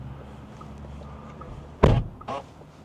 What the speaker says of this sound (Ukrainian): Бере, гупає дверкою